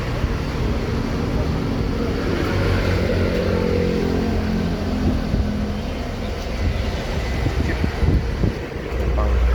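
A Mercedes-Benz 1626 bus engine rumbles loud and steady at close range at a busy Palembang bus terminal, a deep continuous drone with muffled voices faintly mixed in.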